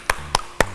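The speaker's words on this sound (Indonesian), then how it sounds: "Tepuk tangan buat Tuhan Yesus." A congregation at a children's church service claps hands in three sharp, evenly spaced claps, close and crisp.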